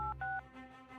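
Telephone keypad tones beep as a number is dialed on a mom's phone, two or three short clear tones close up and alone, followed by a faint steady hum.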